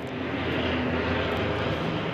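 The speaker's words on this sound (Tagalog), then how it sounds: "Kaya madalas nating makikita po mga eroplano dito sa MOA" Airplane passing over the Mall of Asia seaside near the Manila airport, a steady loud broadband engine roar that holds constant throughout with no one speaking.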